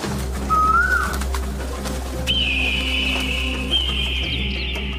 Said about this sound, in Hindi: दूसरे दिन सुबह में कोयल आकर कूकने लगती है